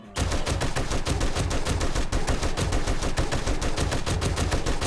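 An M60 machine gun in 7 Days to Die Alpha 19 fires one long unbroken automatic burst, rapid evenly spaced loud shots hammering for several seconds with no talk over it.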